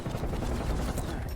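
Enemy sentry turret in a video game firing a rapid, dense burst of gunfire, close and loud, rattling continuously through the short moment.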